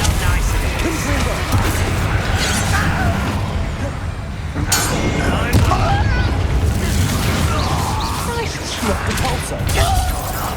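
Spell explosions from Hogwarts Legacy, the Confringo fire blast among them, go off as booming bursts with crackling debris over a dense, continuous game soundscape of combat noise, with a player's voice speaking over it.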